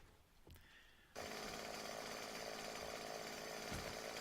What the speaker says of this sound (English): I got a chainsaw.